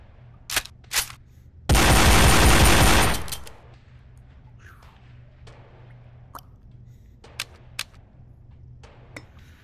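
A pistol is slam-fired in the VR shooting game Gun Club VR: a loud, dense burst of rapid shots lasts over a second, with a few sharp single pops before and scattered faint clicks afterward.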